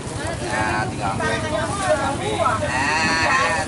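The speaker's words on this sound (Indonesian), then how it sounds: "kambing." Goats at an Eid al-Adha livestock gathering bleat in wavering, quavering cries, loud and close, with people talking in the background.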